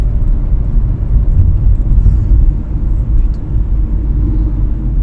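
A long line of cars drives past on a small-town road, a loud, steady low rumble of engines and tyres that runs unbroken and close throughout.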